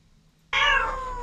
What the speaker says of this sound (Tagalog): Ngiyaw lang ng ngiyaw yung pag alas 12 na ng gabi.